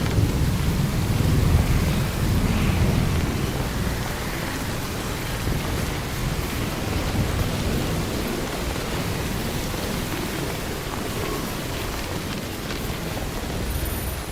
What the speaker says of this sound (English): I gotta get out of this rain.